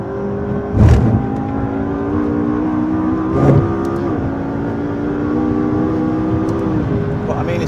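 A supercar, a Ferrari 458 Speciale or McLaren 650S on track, holds a loud steady engine note with rising and shifting pitch, plus brief bumps and clicks, while someone talks over it.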